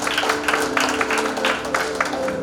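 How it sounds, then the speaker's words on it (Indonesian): A church congregation claps together in a loose, rhythmic burst, fairly close and even, with a faint steady hum running underneath. "Kasih tepuk tangan dulu dong buat Tuhan"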